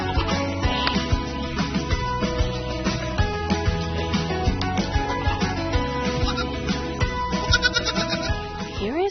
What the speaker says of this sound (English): like these baby goats